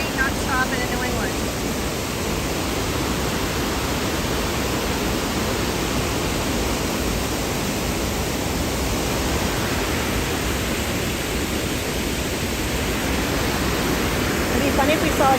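A waterfall swollen by New England flooding gives off a continuous, loud, even roar of rushing water that holds steady from start to end.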